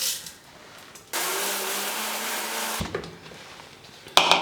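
A mixer grinder grinds porridge ingredients in its jar, whirring loudly for under two seconds in one steady burst, then cuts off, followed by faint clatter and quiet surroundings.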